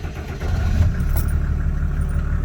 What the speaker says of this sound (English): So I'll fire up the car so you can see it idling.